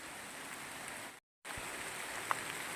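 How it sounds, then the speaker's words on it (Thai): Steady rain pouring outdoors at a rocky gem-hunting spot near a rubber plantation, a dense even hiss broken by a short silent gap, with one faint tap near the end. "อันนี้ขนาดฝนตกนะเนี่ย"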